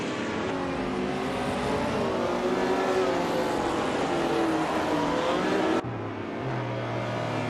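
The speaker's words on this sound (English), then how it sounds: "racing a 1962 Ferrari 250 GTO, a classic beauty but not the fastest today" A 1962 Ferrari 250 GTO race car engine roars continuously at full throttle, its pitch climbing and shifting as it races, loud and close throughout, with a brief drop in intensity near the end as the sound cuts to a lower drone.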